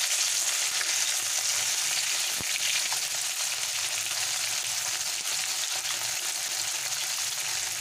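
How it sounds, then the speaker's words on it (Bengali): Latha (snakehead) fish frying in hot oil, a steady, dense sizzle holding evenly for the whole stretch with faint crackles and an occasional soft tap, no voices. "মাছটাকে আমি ভালো করে ভেজে নেব।"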